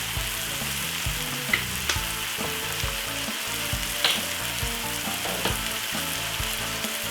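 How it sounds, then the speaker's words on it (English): Frozen sweet corn and ketchup get stirred in a frying pan for tuna pasta, giving a steady sizzle with soft scraping stir strokes and a few sharper clicks, close and moderately loud, no talk. "Give it a lovely stir."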